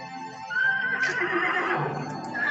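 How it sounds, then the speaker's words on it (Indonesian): Kanthaka, a prince's horse, gives a loud, close whinny that rises and wavers over about two seconds, with faint hoof clops beneath and no talking. "Ini adalah kuda yang dinaiki oleh pangeran tadi."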